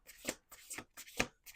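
A tarot deck being shuffled by hand, three quick riffling bursts of card flutter with short pauses between them, close and crisp, and no talking.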